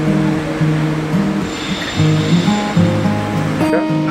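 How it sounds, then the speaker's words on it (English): Factory water cooling of freshly welded large square steel pipe, a loud rushing wash of water mixed with humming, stepping machinery tones on a production line, close and continuous. "this step is for our water cooling and siding process"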